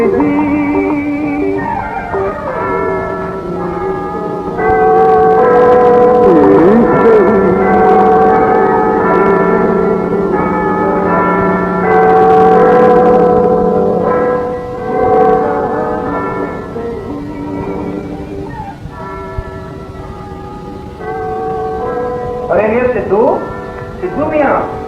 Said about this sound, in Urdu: اس وقت کون آیا ہے جو گھنٹی کے بٹن پر انگلی رکھ کر بھول گیا ہے